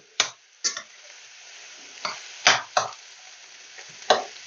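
Chicken pieces dropped into a hot pan, giving a series of short sizzling bursts and clatters spaced irregularly, fairly close and with no talk over them.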